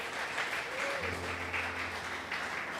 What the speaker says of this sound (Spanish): Dale un fuerte aplauso a tu Rey.